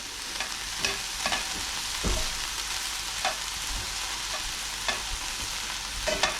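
Onions stirred and frying in a pan for a one-pan Mediterranean chicken and rice dish: a steady sizzle runs throughout, with spoon scrapes and stirring clatters recurring every second or so, close and alone without talk.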